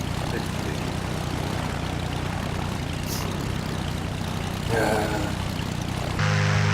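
Airplane engine in Flight Simulator X, a steady propeller drone running loud and continuous, with a brief brighter burst near the end.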